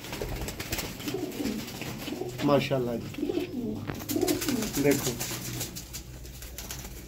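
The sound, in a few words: pigeons cooing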